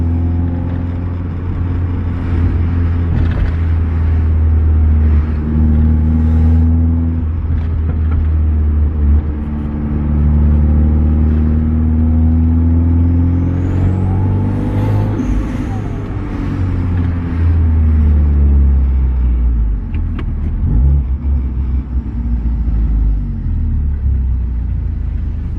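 A heavily modified 2.0 Theta I4 engine in a Genesis Coupe drives along, a loud, close, continuous rumble with repeated rising and falling revs as it accelerates and shifts through gears.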